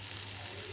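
A brief, steady sizzle of garlic and onion frying in a pan, even and uninterrupted, with no voices.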